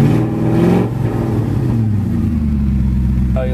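A BMW M5 engine running with a straight-pipe exhaust and no mufflers, revving loudly and close with a deep harmonic roar that rises and then settles, while voices talk over it.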